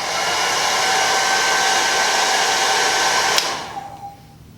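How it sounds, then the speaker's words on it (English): A hair dryer blows steadily and loudly while curtain bangs are styled with a small round brush, then cuts off near the end, leaving a faint whirring tail. "you're gonna blow dry it this way."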